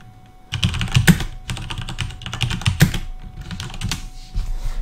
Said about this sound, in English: Just go by pressing Control S and just type in what you want.